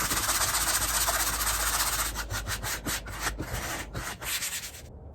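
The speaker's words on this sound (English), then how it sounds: "So sand as much or as little as you like" Steady, continuous rasping of sandpaper rubbed by hand back and forth over a reclaimed wood serving tray, close and fairly loud, growing more broken and uneven toward the end before stopping.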